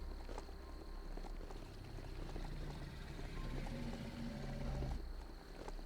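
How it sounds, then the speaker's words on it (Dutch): Elk-like creatures in the video game Biomutant give low, drawn-out calls, somewhat like roars, over a steady ambient game soundscape. The calls rise and hold as sustained tones, mid-level in loudness, with no speech. "Die elanden die maken ook bijzondere geluiden."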